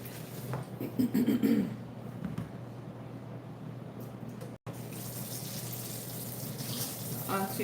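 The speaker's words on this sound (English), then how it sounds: "So I just add more water in here so I can rinse my fish some more." Water runs from a kitchen tap to rinse smoked fish, a soft continuous splashing stream that cuts out briefly partway through and then resumes, fairly quiet, with a voice speaking over it early on.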